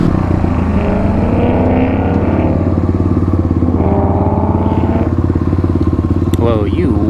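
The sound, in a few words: Kawasaki KLX351 and Yamaha WR250R dirt bikes racing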